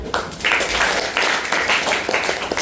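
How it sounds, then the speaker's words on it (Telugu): An audience of 8th to 10th class students claps at a motivational training session, with quick bursts of applause that rise and fall in a rough rhythm, close and fairly loud. "Clap for you."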